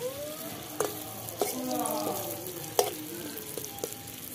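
New potatoes sizzling and frying in a pan with a little water, a steady close hiss broken by a few sharp stirring clicks.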